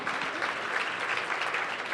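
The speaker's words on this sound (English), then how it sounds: "We can clap." Audience applause at a public forum on violence in Portland, a soft, even wash of clapping from a seated crowd, fairly distant and brief, with no voices over it.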